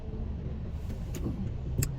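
A car idles and creeps along in heavy rush-hour traffic, with a low steady engine rumble and a few brief mechanical clicks and whirs nearby, with no talking.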